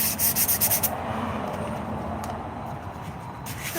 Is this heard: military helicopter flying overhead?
no